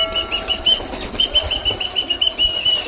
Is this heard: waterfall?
no